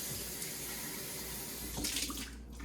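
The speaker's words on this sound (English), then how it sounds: "Gotta make sure you get all the suds off." Tap water runs steadily into a kitchen sink as suds are rinsed off hand-washed dishes, a continuous close splashing stream with a brief louder surge near the end.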